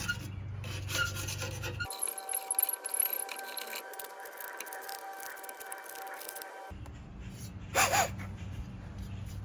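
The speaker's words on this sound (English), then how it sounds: "Just gonna cut off any old silicone." Old silicone being cut and scraped off the glass of a Morrison Stove Co. wood-burning sauna stove door, with rasping scrapes, a long steady stretch of scraping and a short louder burst near the end.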